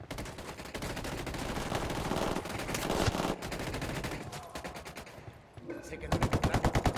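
Sustained automatic gunfire in the Ghost Recon Wildlands video game, dense and rapid with overlapping bursts, ending in a fast, loud rhythmic string of shots.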